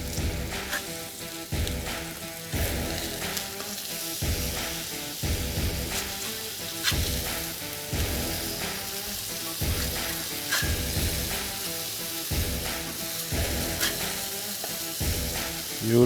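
Smashburger patties on a griddle, just flipped, sizzle and crackle loudly and steadily up close, with rhythmic scraping bursts under the continuous hiss.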